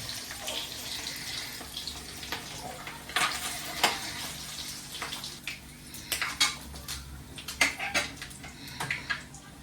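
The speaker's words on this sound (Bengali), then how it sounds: "ফোড়নে দিচ্ছি 5 ফোড়ন আর পেঁয়াজ, কাঁচা লঙ্কা।" Five-spice, onion and green chili fry in hot oil for a Bengali pumpkin, Malabar spinach and fish roe dish, with a low sizzle and sharp clinks and scrapes of a utensil against the pan.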